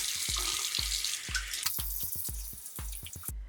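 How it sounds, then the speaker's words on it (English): Tap water running into a sink during handwashing, a steady close hiss of flowing water broken by a regular series of splashing drips and taps, with no talking. "wash our hands"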